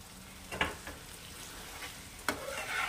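An egg dish cooks over a high flame, a faint steady sizzle broken by a couple of sharp scraping stirs from a utensil against the pan.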